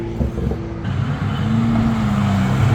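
A supercharged Grand Sport car engine, loud and close, with a steady droning tone that rises slightly in pitch as it revs. A second, smaller engine note is heard at the start.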